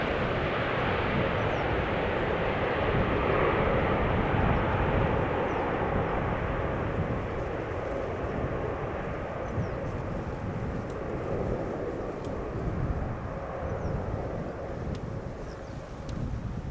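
An Air Canada Boeing 787 Dreamliner departing from Schiphol's Polderbaan runway, its jet engines producing a loud, sustained broadband roar with wind buffeting throughout, slowly easing off over the final seconds.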